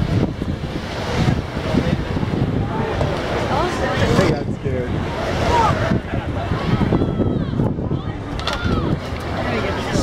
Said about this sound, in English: So the waves over here smack water up.